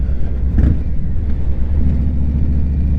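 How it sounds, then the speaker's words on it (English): A 2024 Harley-Davidson Breakout 117 cruiser is ridden on a dealer demo day, its engine a loud, close, throaty rumble that swells briefly as the throttle opens, then settles into a steady drone. "back to this 2024 Harley Davidson Breakout 117"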